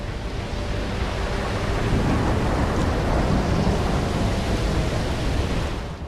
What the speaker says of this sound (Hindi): समंदर का शोर सावधान कर रहा है।